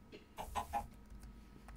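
A chicken in the EggBlock video game gives a few short, soft clucks, faint and close, with no talk over them.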